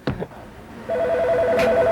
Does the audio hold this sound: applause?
no